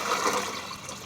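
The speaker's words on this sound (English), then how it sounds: "You have to fill this dish with lots of water." Water rushes loudly into a big cooking pot being filled for a seafood boil broth, a short, steady splashing pour close by.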